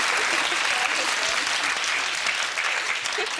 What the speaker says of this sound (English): Jack Russell, big round of applause for the 7 who got that right.